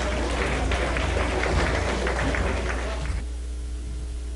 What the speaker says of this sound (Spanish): Vamos a pedir un fuerte aplauso para él